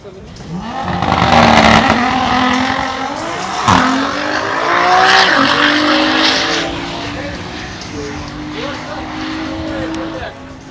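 A vehicle engine revs loudly and close at a retro car fair, pitch climbing and falling in repeated surges with people talking over it.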